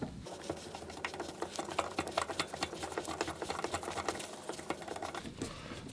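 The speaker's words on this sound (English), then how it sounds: "This impact screwdriver works awesome, man." A cordless impact screwdriver rattles steadily in a rapid, dense patter of clicks while working on the fuel pump of a Honda VFR motorcycle, close and moderately loud, with no talking.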